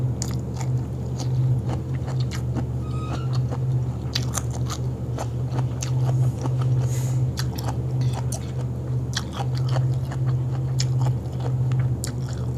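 Crunchy biting and chewing of sticky rice dipped in fermented fish dip with fried frogs, steady close mouth sounds repeating throughout over a low constant hum, no talk.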